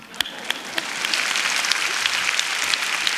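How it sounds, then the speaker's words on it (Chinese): Audience applause at the 28th Golden Bell Awards television ceremony, starting with a few scattered claps and swelling into a steady, dense wash of clapping from a large hall. "完了，请鼓掌。"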